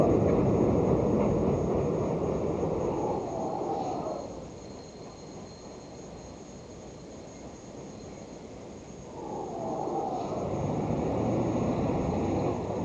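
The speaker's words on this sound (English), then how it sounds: "this type of train noise where you can't talk and you have to yell out until you get yourself heard." An elevated train roars past through a residential neighborhood, loud broadband rail noise that fades to a lower rumble midway and then swells again as more cars pass, with no voices.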